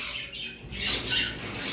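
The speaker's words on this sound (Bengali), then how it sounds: "এইখানে একটা পেয়ার লাভবার্ড রয়েছে" Lovebirds squawk in a bird-sale collection, bright harsh calls bursting out twice mid-clip over a steady chatter of cage noise, fairly close and moderately loud, with no talking.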